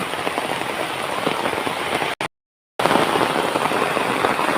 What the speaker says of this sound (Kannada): ಇವತ್ತು ಪಾರ್ಕಿಗೆ ಹೋಗ್ಲಿಕ್ಕೆ ಸಾಧ್ಯ ಇಲ್ಲ ಮಳೆ ಬಂತು